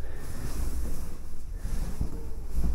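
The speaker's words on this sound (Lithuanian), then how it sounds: "Nu ir pučia čia vėjelis." A breeze blows through a bedroom in Spain, producing steady low rumbling buffeting on the microphone with slight gusty swells, continuous and fairly loud, with no speech.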